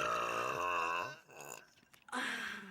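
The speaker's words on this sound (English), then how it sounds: "Every burp, she amazes me." A girl lets out a long, loud, voiced burp during a burping contest, followed by quieter gurgling sounds and then another strong burst, close and alone without talking.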